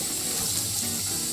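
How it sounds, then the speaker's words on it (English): Cool water runs steadily from a sink tap to rinse out a wine bottle, a close, loud, continuous hissing gush with no pauses. "pouring cool water in there"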